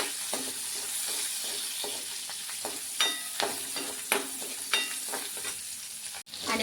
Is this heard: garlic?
yes